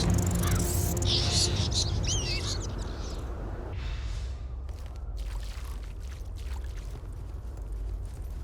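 Blackbirds in the video game Castlevania: Lords of Shadow caw and chirp in a flurry for a few seconds over a low game rumble, then scattered clicks and thuds follow as the calls fade.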